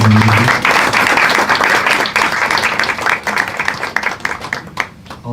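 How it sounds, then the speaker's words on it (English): Audience applause for filmmaker Haile Gerima after a community film screening, a dense sustained wash of clapping hands from a sizable crowd, steady and loud, tapering slightly near the end. "can we give a round of applause for Haile Gerima"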